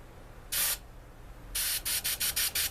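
Short hissing bursts of a CO2-powered airbrush spraying: one single puff, then a quick run of about six rhythmic sprays, close and clear.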